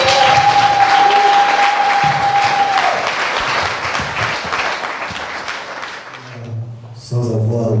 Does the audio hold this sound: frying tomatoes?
no